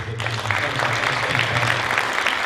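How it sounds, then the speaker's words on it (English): An audience applauds singers and cheerleaders at a high school hall of fame induction ceremony, a short steady clapping with a low voice briefly audible underneath. "let's give our singers and our cheerleaders a round of applause"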